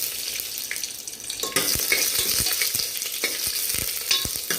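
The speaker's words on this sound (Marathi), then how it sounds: "मी आता दोन तीन चार उभ्या मिरच्या कापलेल्या आहेत त्यात टाकतो" Slit green chillies sizzle in hot oil with garam masala in a pressure cooker for dhaba-style chicken curry, a close, bright frying hiss with repeated scrapes and taps of stirring, no talk.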